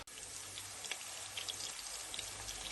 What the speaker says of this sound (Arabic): نخليو الطماطم تتقلى مليح بهذه الطريقة